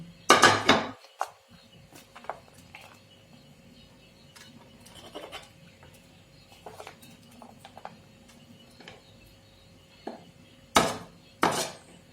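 Dadpe pohe, flattened rice dish, served onto a plate with clinks and scrapes of a spoon against the plate, a loud clatter at the start, then sparse taps and two sharp knocks near the end, in a quiet kitchen.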